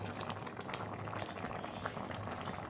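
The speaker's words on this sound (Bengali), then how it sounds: "এবার আঁচটা বাড়িয়ে আরও কিছুক্ষণ জাল করব" Fish and taro curry boiling hard in a pan on raised heat, a steady dense bubbling that runs unbroken and close throughout, with no voices.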